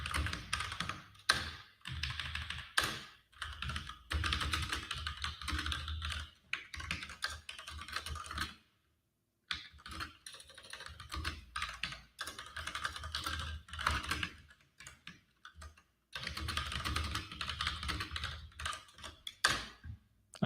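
Fingers type a git commit on a computer keyboard, sending close bursts of rapid key clicks separated by short pauses, including one full second of silence midway.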